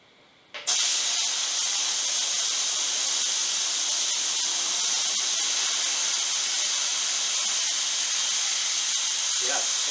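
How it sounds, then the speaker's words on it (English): An air compressor tank in a woodshop being drained, with a loud, steady high-pitched hiss of escaping air that bursts on abruptly and holds unbroken to the end. "First we're going to drain the air tank."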